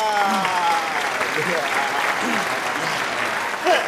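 A crowd claps steadily in sustained applause, with faint voices and an occasional shout mixed in.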